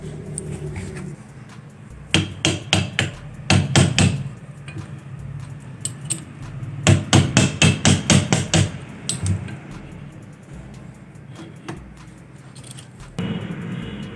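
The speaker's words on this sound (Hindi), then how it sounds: "यहाँ पे हम वही पेचकस लगा के और हथौड़ी के साथ थोड़ा सा इसको ठोक देंगे तो ये कस जाएगा" A hammer taps a screwdriver to tighten the nut on a sewing machine, giving bursts of quick, close metallic knocks in clustered rhythmic runs separated by quiet pauses.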